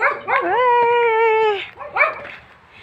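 Close by, a dog lets out a quick yip, then a long, drawn-out whining bark, then another short yelp.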